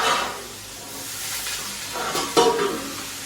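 Curry leaves hitting a hot pan for tamarind stew give a steady frying sizzle and hiss, with a sharper spitting burst near the end as they land in the oil.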